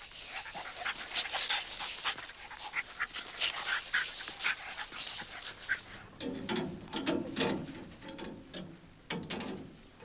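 Greyhound coursing dogs pant rapidly and whimper with excitement, close by, in quick repeated breathy bursts with occasional whines.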